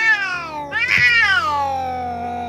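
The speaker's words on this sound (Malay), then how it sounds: "aku terperanjat dengan bunyi kucing di belakang aku" An orange cat meows in a long, drawn-out cry with a sharp rise in the middle, loud and close, alone with no talk.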